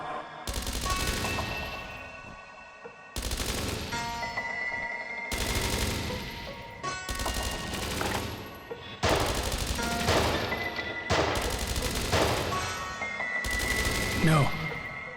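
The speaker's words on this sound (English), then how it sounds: "Return fire." Sustained bursts of automatic gunfire and rapid shots during an ambush firefight in the video game Dreams Of Another, loud and continuous in repeated volleys across the whole stretch, with brief gaps between bursts.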